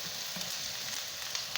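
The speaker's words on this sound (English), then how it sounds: "here we are with our thinly sliced onion, which is going into a preheated frying pan" Thinly sliced yellow onions sizzle in a preheated frying pan, a quiet, steady hiss of frying with small crackles and pops and no talk.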